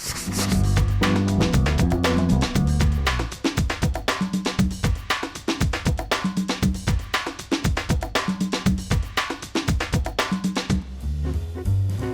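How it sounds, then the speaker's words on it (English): Sandpaper rubs rhythmically over the wooden body of a 1964 Gibson ES-335 guitar replica in a workshop, in fast, close, continuous strokes that pause briefly partway through, with no talking. "Do an occasional sandpaper cleansing here."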